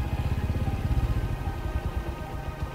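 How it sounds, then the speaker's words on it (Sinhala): Motorbike riding along a shortcut road, its engine puttering in a steady pulsing rhythm close by, alone without talk. "බලමු මගේ බයික් එක කොහමද දෙන්නේ"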